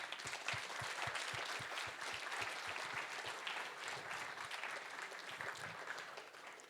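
Audience applause at a tech meetup as the first speaker, a physicist from a nuclear physics institute, is introduced; a sustained crowd clapping with a few louder distinct claps near the front.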